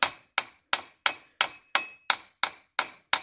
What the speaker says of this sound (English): with the ball part of your hammer here, go ahead and smack your axle back just a little bit